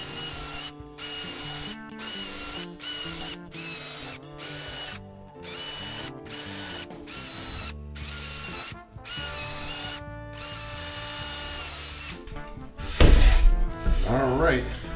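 A power drill drives number 6 screws into a subwoofer cabinet in repeated short bursts separated by brief pauses, close and fairly loud, ending in a louder clattering burst.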